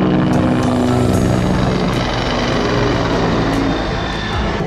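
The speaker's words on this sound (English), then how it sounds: "Traffic in DC with all the choppers flying." Helicopters fly over Washington DC near the marina, and one rotor drone fills the air with a loud, continuous low thrum and faint rhythmic blade chop that holds steady throughout, with no voices.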